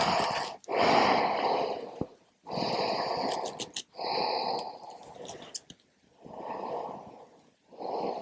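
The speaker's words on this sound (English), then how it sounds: "Breathing smoothly." Slow, smooth yoga breathing, heard as long audible inhales and exhales in an even rhythm with short pauses between them, close to the listener and alone.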